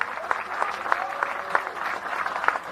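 A crowd at an opposition political rally in Gyumri, Armenia, claps together in a steady rhythmic beat, loud and sustained, with faint voices mixed in.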